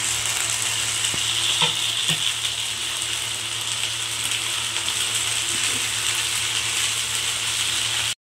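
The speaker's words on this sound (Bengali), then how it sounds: "রসুন বাটা, আদা বাটা, কাঁচা লঙ্কা বাটা এর মধ্যে আমি দিয়ে ভালো করে নেড়ে নিচ্ছি।" Garlic, ginger and green chili paste sizzles loudly in a hot frying pan, a constant close fry with a few brief scraping stirs near the start and no voices.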